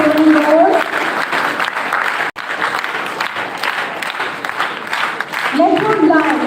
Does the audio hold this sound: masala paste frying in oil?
no